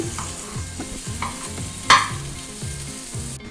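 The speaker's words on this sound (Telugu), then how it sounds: "స్మాషర్తో ఇలా మొత్తం స్మాష్ చేసుకోవాలన్నమాట" Boiled, peeled potatoes being mashed with a masher in a pan for aloo samosa filling, a regular run of soft, squelching thumps with one sharper clack partway through, close and alone.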